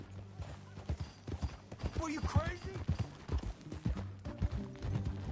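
Horse hooves in the video game Red Dead Redemption 2, a steady clip-clop of riding under frequent conversation between characters.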